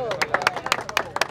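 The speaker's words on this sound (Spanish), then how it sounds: "Un aplauso." A small group claps in scattered, uneven bursts at a local political meet-and-greet for a congressman, close by, with a voice and crowd murmur running underneath.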